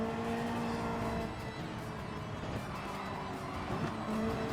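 A race car in Gran Turismo 7 brakes hard from speed, a steady engine drone with tonal whine and rushing tire noise holding at an even, fairly loud level throughout.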